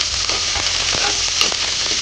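Ginger frying in a pot for Filipino fish tinola gives a steady, close sizzle with light crackling and an occasional stirring scrape, no voices over it.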